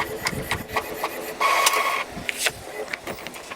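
An Epson L3150 inkjet printer with a repaired printhead prints a picture, giving off rapid mechanical clicks and a whirring carriage run in the middle, close and fairly soft.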